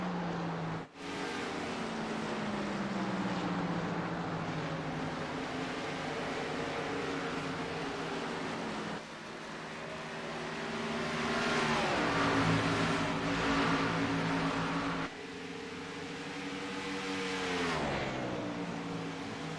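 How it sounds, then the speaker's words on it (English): Race cars roar around a track during a broadcast, engines loud and sustained with rising and falling pitch as cars accelerate and pass close by, one abrupt drop near the start and shifts in tone as the field streams past. "Nate Trito just blew by the second and third place car like they were standing still."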